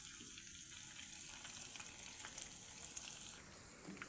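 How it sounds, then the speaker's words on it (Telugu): Chicken pieces deep-frying over a low flame in a pan for a Telugu-style chicken pickle, a steady close sizzle with fine crackling pops throughout, with no talking. "ఇలా ఫ్రై అవనియాలండి"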